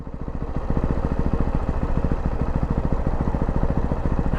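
A 2024 Ducati Hypermotard 698 RVE idles in neutral, its single-cylinder engine thumping in a steady, rapid, loud pulse close by, with no voices over it.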